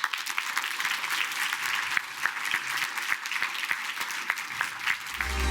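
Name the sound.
audience applause at award ceremony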